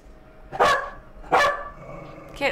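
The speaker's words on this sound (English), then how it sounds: "stop barking" A pet dog indoors barks three times in sharp separate bursts at a door delivery arrival, moderately close, with quiet pauses between barks.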